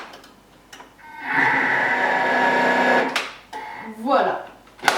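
An electric hand mixer beats walnut cake batter at speed 3 or 4, a steady mid-pitched whirring that runs for about two seconds and then stops, with someone speaking French before and after.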